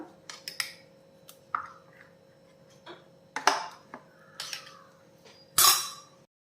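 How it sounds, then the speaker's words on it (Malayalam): A spoon scraping and clinking in a bowl as salt is mixed into dosa batter, giving scattered sharp taps and clicks at an irregular pace, close and fairly quiet, with no voices. "ആവശ്യമുള്ള ഉപ്പും കൂടെ ചേർത്ത് ചേർത്തിട്ട് നമുക്ക് മിക്സ് ചെയ്യാം"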